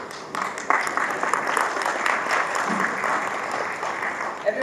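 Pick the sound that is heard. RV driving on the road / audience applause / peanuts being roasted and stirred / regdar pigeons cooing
audience applause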